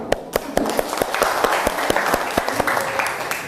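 A classroom of schoolchildren applauding together, with dense, steady clapping that stays loud and close throughout, with some children's voices mixed in.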